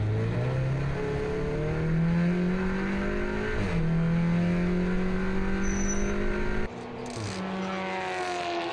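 Onboard engine sound from the Camel Jordan race car circling the Hockenheimring, a steady loud whine that climbs through the gears with brief shifts, one abrupt change near the end and no talk.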